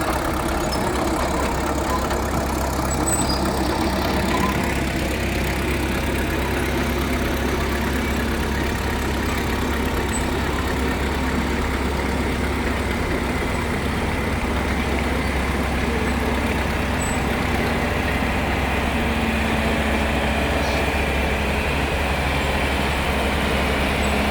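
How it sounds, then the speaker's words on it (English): An E4 Caterpillar tractor owned by a museum rumbles along in a farm show parade in Wolford, North Dakota, a steady low engine drone held for the whole stretch with faint outdoor background. "E4 Caterpillar. Owned by the museum. Driven by Gabe Ellis."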